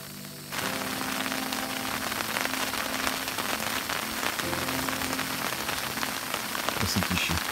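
Steady rain falls on a tent at a forest fishing camp, a dense continuous patter close by that begins abruptly and holds constant, with a few louder drops near the end.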